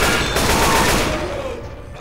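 Gunfire against infected in Left 4 Dead 2 on Swamp Fever at Expert difficulty, with a loud, dense volley of shots that fades toward the end of the two seconds.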